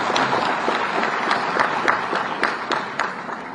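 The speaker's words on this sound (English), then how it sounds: "Give a big round of applause." Audience at a university convocation ceremony applauding, a steady moderate wash of many hands clapping heard from the crowd throughout.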